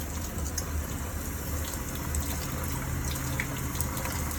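Steady rushing water from a tap running hot water from an electric water heater, with a low hum underneath throughout.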